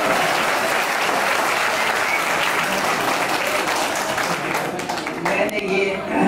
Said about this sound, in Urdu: ذرا تالیاں بجا کے بتائیے۔